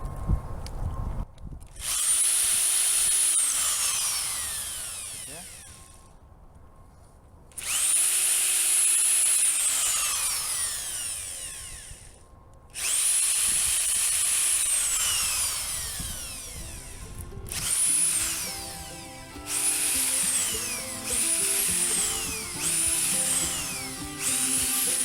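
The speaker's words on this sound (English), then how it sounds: "now that we've got our holes drilled in the top of the logs" A power drill bores holes into the tops of logs outdoors, whining up in three long bursts separated by short pauses, then giving way to choppier, stuttering grinding near the end.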